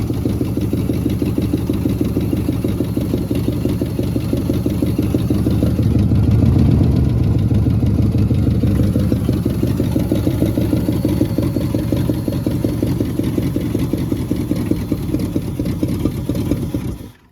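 An old jet-age barn-find car engine idles low and steady for the whole stretch, a close, continuous rumble with a slight swell partway through and no voices.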